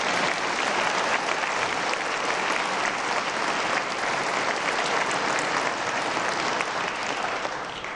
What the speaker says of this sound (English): And y'all could clap.